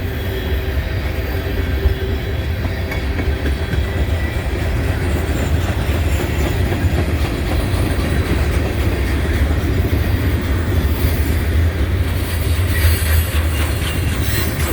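A long freight train, including a brand-new clean grain car, rolls steadily past up close at Canal Ridge Road, with continuous loud rumble, clacking wheels over rail joints and occasional faint squeal, no talk.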